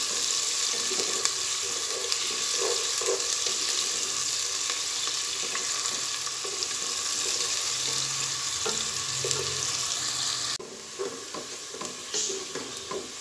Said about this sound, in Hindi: प्याज को हम भून लेंगे अच्छी तरह।